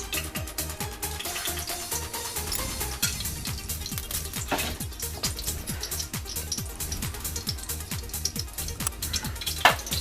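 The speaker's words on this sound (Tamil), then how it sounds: "எண்ணெய் காய்ந்தவுடன் அதோட தாளிப்பதற்கு பட்டை, கிராம்பு வாசனைக்கு நம்ம சேர்த்துக்கிறோம்" Cinnamon and cloves fry in hot oil, giving a steady crackling sizzle with scattered pops and a few utensil clinks, close and moderately loud throughout.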